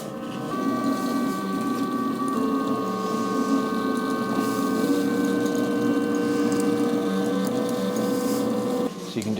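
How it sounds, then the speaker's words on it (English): A clay 3D printer runs steadily while extruding clay for a test mould, giving a continuous mechanical whir with a faint pump-like hum that holds close and level throughout. "So you can just hear the printer behind me kind of whirring away."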